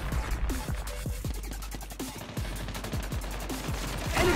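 Rapid bursts of automatic gunfire from the COD Mobile shooter game, steady close cracks repeating several times a second across the whole stretch, loud and dense.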